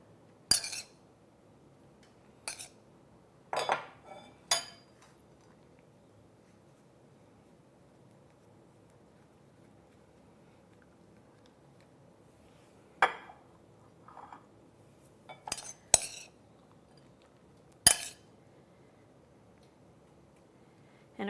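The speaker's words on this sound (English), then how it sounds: "And then put it in the pan." Rolled breakfast fillings set into a small, tightly packed pan, giving scattered light clinks and taps of food and utensils against metal, in short separated clusters over a quiet kitchen background.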